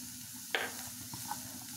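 Grated carrot and finely chopped beans sautéing in a pan, a low quiet sizzle with one sharp clink of the spoon and a softer tap after it, close and faint, with no voices.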